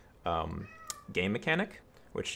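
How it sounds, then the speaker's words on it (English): A house cat meows several times in short, tonal calls, fairly close, mixed in with someone talking. "you might hear my cat meowing in the background"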